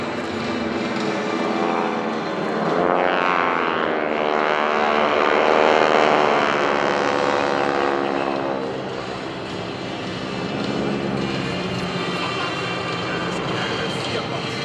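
GEICO Skytypers propeller airplanes in Fan Pass formation at an airshow, a steady loud droning engine roar that swells as the formation passes overhead, peaks and then eases off.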